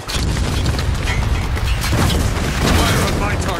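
Mortar fire and battlefield booms in the Spec Ops: The Line video game, with continuous loud blasts and rumbling through the clip, accompanied by voices over the din.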